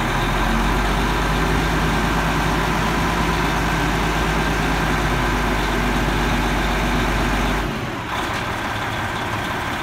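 A 1999 Oshkosh 4x4 dump snow plow airport truck engine idles loudly and steadily at close range, with a deep rumbling drone that drops off near the end.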